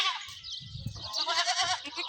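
A goat bleats close by, a wavering, nasal cry stretching over a couple of seconds.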